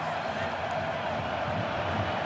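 Football stadium crowd at a Brazil vs Japan match, a steady, dense roar of many voices that holds evenly throughout, broad and distant-sounding with no single standout shout.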